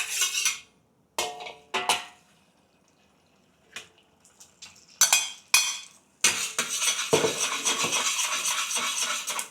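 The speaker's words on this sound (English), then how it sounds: "with some oil inside the wok over medium heat, make a very soft scramble" Beaten egg yolk is soft-scrambled in an oiled wok over medium heat, heard as scattered clinks and scrapes of a utensil against metal, then a loud steady sizzle with stirring scrapes near the end.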